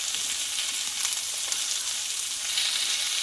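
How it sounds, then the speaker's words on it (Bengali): Pumpkin stems sautéed with green chillies, coriander, cumin, turmeric and chilli powder and salt in a pan, giving a steady, loud, close hiss of frying that carries on without a break. "আর দেবো স্বাদ মতো লবণ একসঙ্গে ভালোভাবে কষিয়ে নেবো"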